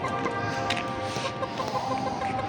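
Hens cluck among other chickens in a backyard coop, with a rooster nearby, a steady dense clucking and chatter close by filling the whole stretch without any talk.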